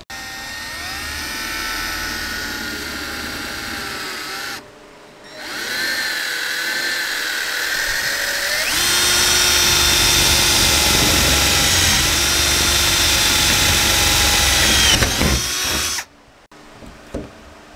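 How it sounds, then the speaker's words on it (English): A power drill whines loudly in sustained bursts, drilling holes in Lexan sheet for a car door, its pitch shifting as it bites in, with brief pauses between holes. "And then now we'll drill the rest of the holes."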